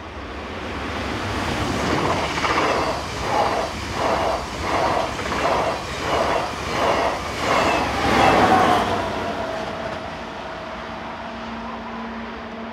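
Double-deck passenger train hauled by locomotive 059 on a Paris to Compiègne service, rumbling steadily past with a rhythmic clatter of wheels over rail joints, then a fading roar and a faint tonal whine as it moves away.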